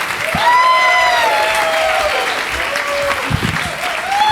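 Comedy audience clapping and cheering for comedian Jake Rowe, a dense, loud round of applause that stays steady throughout, with a voice calling over it and a few whistle-like tones.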